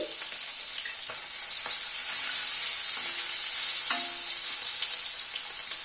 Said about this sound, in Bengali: আলুটা একটু ভেজে তুলে নেব।